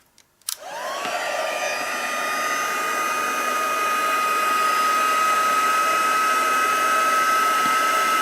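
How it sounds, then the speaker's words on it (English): Heat tool blowing hot air during a crafting project, switched on with a click and rising into a steady, close whine and rushing airflow that holds constant to the end. "And then a heat tool."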